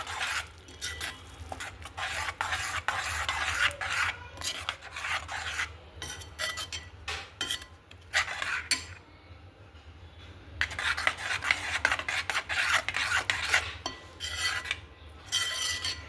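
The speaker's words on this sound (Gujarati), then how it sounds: "દહીં નાખી સતત હલાવતા રહેવાનું." A spoon scrapes and rubs around a pan as yogurt is stirred into a dry fenugreek (methi) curry, a continuous irregular rasping with short pauses, close and fairly quiet.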